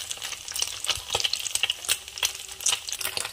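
Chicken fried rice stir-fried over a high flame sizzles and crackles loudly and steadily, with quick, repeated stirring clatters and scrapes cutting through the hiss.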